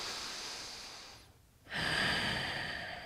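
A deep breath taken during a yoga core exercise, a long airy exhale that fades into a brief pause, followed by a fuller, louder inhale, heard close and alone without talk.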